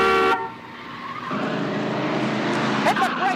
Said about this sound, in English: Hit the brakes, Buster, and bring it to a halt.